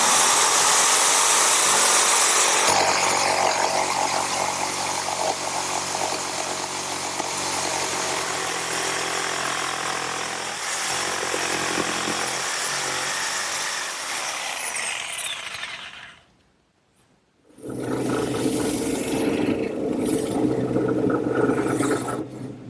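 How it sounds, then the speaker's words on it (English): A portable jigsaw runs loudly in a long continuous buzz as it cuts wood, briefly stopping before starting up again. "this portable jigsaw will do just fine"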